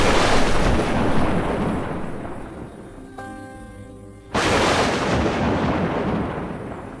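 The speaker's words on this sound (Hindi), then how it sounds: "तभी दूर से बिजली कड़कने की आवाज़ आई।" Loud booming thunder rolls and rumbles, fades briefly as a tonal note sounds, then a second heavy crack of thunder crashes in.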